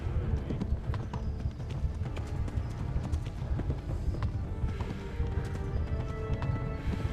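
Horse galloping in the video game Kingdom Come: Deliverance, a fast continuous clip-clop of hooves running throughout at steady loudness, with a faint voice now and then in the background.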